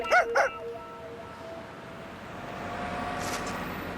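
A small cartoon dog gives two quick whimpering yips up close, followed by a long stretch of quiet room tone with a faint later rustle.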